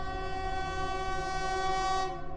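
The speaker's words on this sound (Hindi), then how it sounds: "मुझे ट्रेन के हॉर्न 2 बार सुनाई दिया।" A sustained, loud train horn heard from inside a train compartment at night, blaring steadily, a rich tonal blast that holds for a couple of seconds before trailing off.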